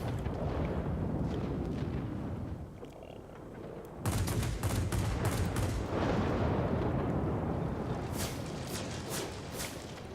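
Bomb explosions and gunfire in the World of Warplanes flight game, with the J7W2 fighter dropping bombs: a dense rumbling barrage, then a sudden louder burst of crackling blasts and sharp impacts continuing to the end.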